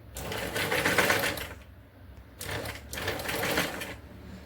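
A sewing machine runs loud and close in two sustained bursts with a brief pause between them, stitching the back neck of a blouse; no voices are heard.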